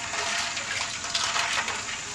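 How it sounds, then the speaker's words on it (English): Chatham artillery punch being stirred and swirled, a short continuous watery sloshing rush heard close up. "I'm going to stir it up. Give it a swirl, I think."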